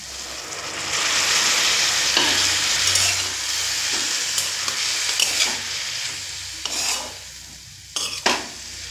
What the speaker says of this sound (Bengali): এইভাবে নেড়ে নেড়ে পুরটা আমি রেডি করে নেব।